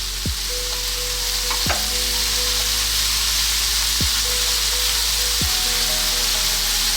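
Potatoes and carrots fry in a pan for a stuffed milkfish filling, with a constant dense sizzle broken by a few sharp spatula scrapes as the mixture is stirred up close.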